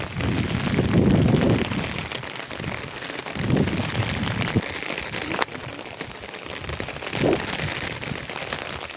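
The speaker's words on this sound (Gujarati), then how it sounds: "વરસાદ ફૂલ ચાલુ છે" Steady, dense hiss of heavy rain pouring down close by, with a few low thuddy swells in the background and no voices.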